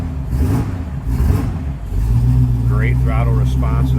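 A 1969 Pontiac Firebird 400 V8 with EFI and an aftermarket exhaust revs up into a loud, steady rumble after a moment of man's speech, the engine holding a raised idle close by.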